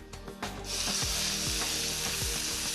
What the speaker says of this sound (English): now I'm going to cook off the curry paste and compile the curry